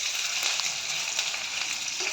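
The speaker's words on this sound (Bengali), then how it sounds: "অল্প একটু ভাজবো কাঁচা লঙ্কাগুলোকে।" Green chillies and ginger paste fry in a pan, giving a continuous close hissing sizzle with faint crackles throughout.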